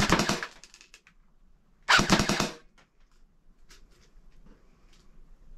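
An A&K MK46 airsoft replica fires two short bursts at a target, each a dense rattling crackle of about half a second, separated by a pause, followed by faint clicks and handling noise.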